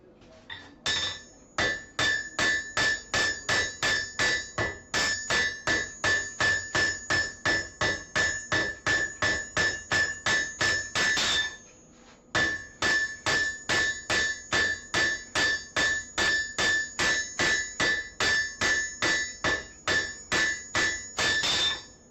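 Large cross peen hammer forging a steel spatula on an anvil: a long, steady series of ringing metallic blows in an even rhythm, close and loud, with one brief pause midway.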